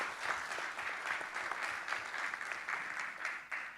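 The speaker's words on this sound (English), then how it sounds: "give them a round of applause" Audience at a staking industry summit gives a round of applause, a steady, fairly quiet wash of many hands clapping for a few seconds with no talk over it.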